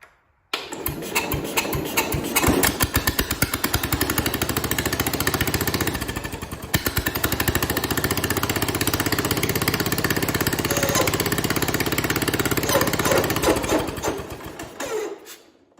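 A 1970 International Cub Cadet 127 garden tractor engine, after sitting for over ten years, starts and runs steadily at close range, a loud continuous rapid chugging that cuts out briefly, picks back up and then stops.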